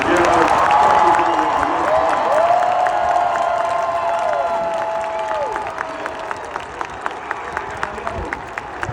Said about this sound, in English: So I want one more round of applause for this team that is together.